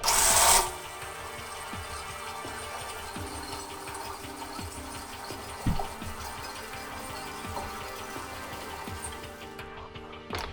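A blender crushes ice for a Tropical Itch cocktail, producing a steady mechanical whir with a rattling, grinding texture that starts with a loud burst and runs on evenly for about ten seconds, with no voices.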